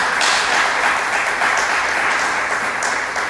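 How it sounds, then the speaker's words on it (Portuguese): A church congregation applauds during a sermon, producing a loud, dense and continuous sound of many hands clapping at once, steady throughout this short stretch with no voices rising above it. "Aplauda ao Senhor, em nome de Jesus."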